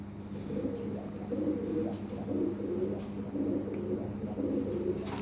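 Lahore Siraji pigeons coo in a steady run of soft, rolling low calls, close by and repeating throughout with faint background noise.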